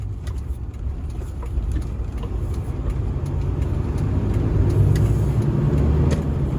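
A car driving along a rural highway, a steady low engine and road rumble that swells gradually louder toward the end, with no voices.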